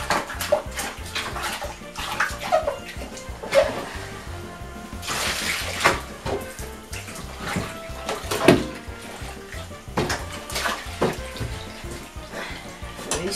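Fresh water runs into a bathtub while a mascot suit is rinsed, a steady splashing rush with sloshing surges and occasional knocks, close and continuous throughout.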